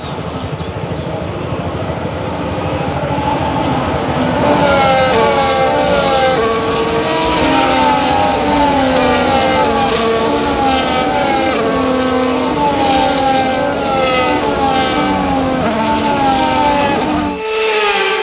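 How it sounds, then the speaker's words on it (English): F1 race cars on the formation lap at Interlagos in the F1 25 video game, engines droning and revving continuously with layered, shifting tones, loud and sustained throughout. "the formation lap is underway ahead of today's sprint."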